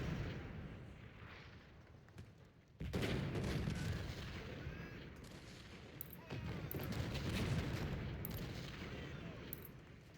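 Booming cannon and artillery fire with scattered gunshots from an Ultimate General: Civil War battle, a dense, continuous barrage of rolling blasts that swells sharply after a brief lull, with sharp cracks popping out at intervals.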